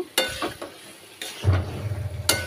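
Food is sautéed and stirred in a pan, giving a soft sizzle with a few scraping stirs, close and alone.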